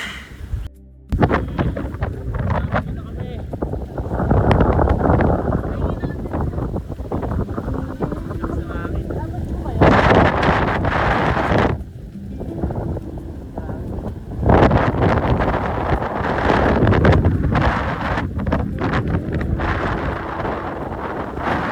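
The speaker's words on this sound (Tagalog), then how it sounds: "Grabe yung hangin." Strong wind buffets the microphone in heavy, roaring gusts that surge and ease repeatedly on a mountain trail, with faint voices buried underneath.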